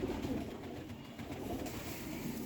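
Low, soft cooing of a kamagar pigeon under a steady background hum, a muffled throaty murmur continuing through the short stretch.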